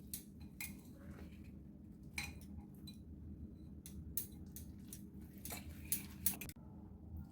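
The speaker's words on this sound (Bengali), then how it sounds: "এটা ভালো করে সাথে মিশিয়ে নেবো।" A spoon mixes a curd dessert with powdered sugar in a bowl. It makes faint, irregular clinks and scrapes, with a few sharper taps toward the end over a quiet background.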